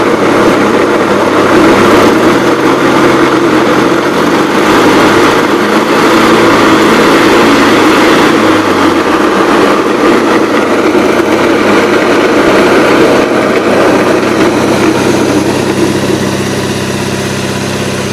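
A Gravely 8163-T tractor engine runs loud and close with its mower deck PTO engaged, holding a steady revved drone through the whole stretch, with the deck's whirr and rattle layered under the engine.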